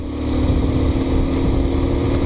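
A two-stroke scooter engine runs close by, a loud, steady buzzing drone with no pauses or revs, heard alone.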